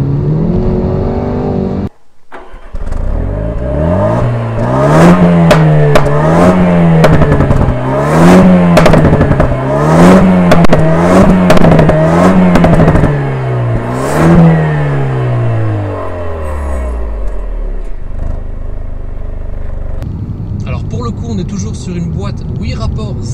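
A 2-litre turbocharged car engine revs hard through repeated rising and falling accelerations, close and loud, with quick gear changes, then tails off as the engine note drops away.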